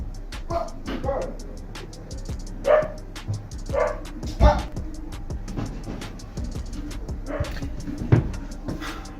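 Dog barking several times in short, separated bursts, with a few yips and whimpers, fairly close against a busy background of movement and some voices.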